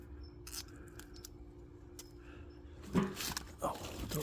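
Scissors or a blade snip through a cactus to cut away rotten rib, with a few soft, crisp snips and rustles close by, mostly quiet, and a louder scraping cut near the end.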